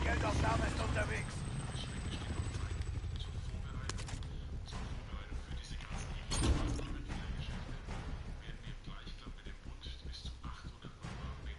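Helicopter in a PS4 video game hovering for a cargo pickup: a continuous low rotor thrum with mechanical rattles and creaks, steady and close, under game radio voices.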